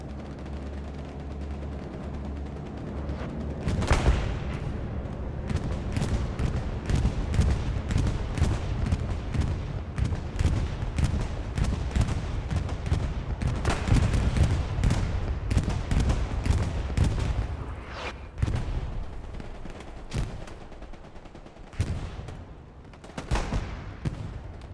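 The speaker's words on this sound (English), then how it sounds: "Bombing run on its way." A bombing run in the World War II shooter Hell Let Loose, set in Hurtgen Forest, brings a dense, continuous barrage of explosions and gunfire, heavy booms and rapid cracks layered over a rumbling battlefield for over twenty seconds.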